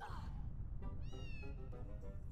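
A kitten in the Harry Potter and the Philosopher's Stone video game gives a few short, high meows, rising and falling over a steady low game hum and background music.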